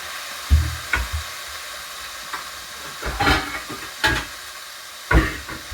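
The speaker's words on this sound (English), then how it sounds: "Just to kind of steam that kale a little bit, to tenderize it" Kale sizzles and steams in a covered pan, a soft continuous hiss broken by several short, louder bursts and clatters, with no one speaking.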